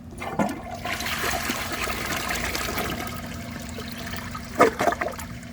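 A 2001 Vortens Vienna toilet flushes with a steady, close rush of water running for several seconds, ending with a few gurgling swirls as the bowl drains.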